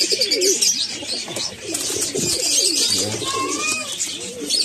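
Pigeons in a breeding setup cooing steadily and close by, with chirps and brief wing flutters mixed into a continuous, fairly loud flock chorus.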